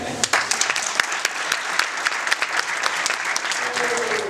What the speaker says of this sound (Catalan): no podem començar sinó un aplaudiment vostre